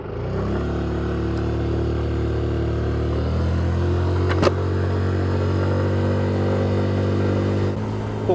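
A Yamaha NMAX 125 ABS scooter's engine drones steadily while climbing a mountain pass at around 6000–7000 rpm, its pitch stepping up and holding near the speed limit, loud and continuous with wind noise.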